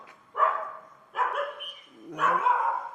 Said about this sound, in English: I think it would be nice if the dogs would shut up.